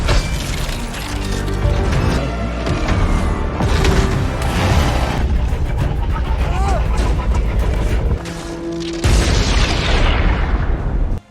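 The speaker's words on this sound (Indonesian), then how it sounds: "Tessa meledakkan granat itu dari dalam dan membuat Kalis tewas" In a sci-fi monster film, a freeze grenade detonates inside a giant creature, bringing loud booming blasts with crashing, shattering debris. The cinematic explosions stay dense and sustained throughout, with a brief dip and a swelling burst near the end.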